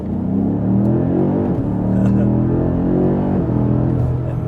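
A 627-horsepower 2022 BMW M5 CS accelerating hard: a loud, close engine roar climbs steadily in pitch, with two distinct gear shifts breaking the rise before it pulls up again.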